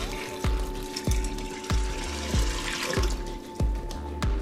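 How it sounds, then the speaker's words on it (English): Water is poured steadily into a cooking pot, 8 cups in all, with a continuous near splashing rush and regular soft knocks, like a measuring cup tipping, about every half second. "Okay, so I have added the 8 cups of water right here."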